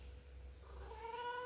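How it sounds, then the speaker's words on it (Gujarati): A cat meows softly at close range, one drawn-out call rising in pitch over a low steady background hum. "આ મારી બિલાડી"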